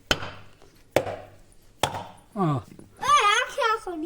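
Three sharp, hard knocks about a second apart as a coconut is struck against a stone to break it, followed by a few spoken words nearby.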